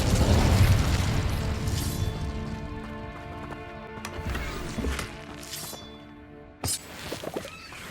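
In Hogwarts Legacy, the Incendio fire spell bursts with a heavy, booming blast at the start that trails off into crackling debris, followed by a sharp second impact near the end.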